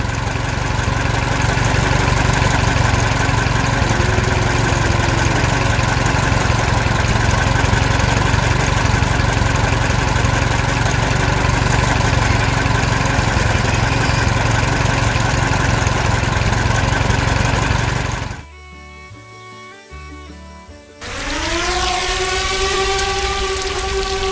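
A cartoon tractor engine runs loud and steady with a dense droning rumble, cutting out abruptly near the end for a brief pause before the engine noise resumes.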